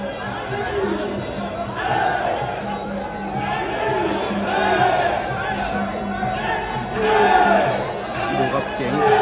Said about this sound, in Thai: ตอนนี้นี่มีเสียงเชียร์เริ่มดังขึ้นมาครับ